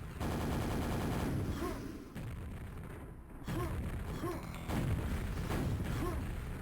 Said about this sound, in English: Trading rockets back and forth.